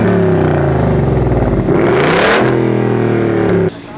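A Ford Mustang GT exhaust revs loudly and close by, the engine note climbing sharply, peaking, then settling into a steady drone before cutting off suddenly.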